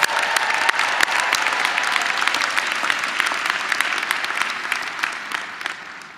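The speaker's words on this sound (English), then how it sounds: "So let's clap for that." Dense, continuous clapping from a large indoor audience at a university commencement ceremony in West Lafayette, steady and even, easing off slightly at the end.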